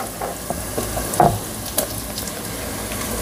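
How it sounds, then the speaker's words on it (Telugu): Pumpkin pieces tipped into a pan of sizzling onions, giving a steady frying hiss with a brief clattering thud and stir as the pieces land. "ఇప్పుడు మనం కట్ చేసి పెట్టుకున్న గుమ్మడికాయ ముక్కలు వేసేసుకుందాం"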